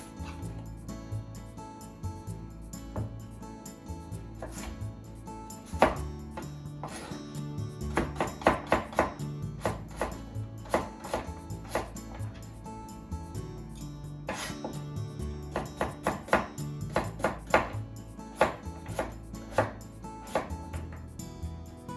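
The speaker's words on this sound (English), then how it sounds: "Daikon radish, peel the skin. And let's just cut it into bite size." Knife chopping peeled daikon radish into bite-size pieces on a cutting board, with irregular close taps and thuds that come in quick bursts through the middle and later stretches, with no talk.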